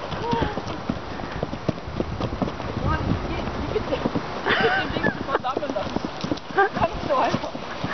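Horse hooves clip-clopping in a quick, uneven rhythm during a wild ride on a horse, close and fairly loud, with people talking and calling out over them throughout.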